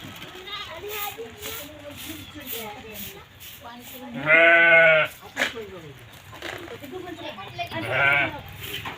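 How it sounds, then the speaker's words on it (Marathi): Sheep bleat loudly a couple of times, one long harmonic cry and a shorter one later, over steady background chatter and children's voices in a village. "बघा दिसल्या का तुम्हाला मेंढ्या आमच्या"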